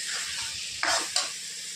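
Potato pieces sautéed with bombil fish in a pan, a continuous sizzle broken by two short stirring scrapes of the spoon, no one speaking.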